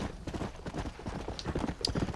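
A horse's hooves clip-clop at a steady riding pace in the Red Dead Redemption video game, a fairly quiet, continuous rhythm of hoofbeats with no talk over it.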